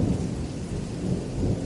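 Steady heavy rain with deep rolling thunder rumbling underneath, a continuous storm sound effect heard on its own at moderate level.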